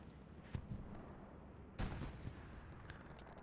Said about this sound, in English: In my headphones, I'm being deafened by the artillery